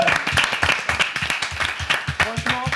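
Audience applause for a guest on a French web talk show: brisk rhythmic clapping from a small studio crowd, close and steady for a few seconds with a voice speaking over it near the end.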